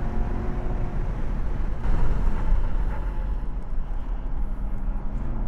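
A race car powering down the straight at Buttonwillow Raceway, a loud steady engine roar rising briefly midway, heard from inside or close by with no talk.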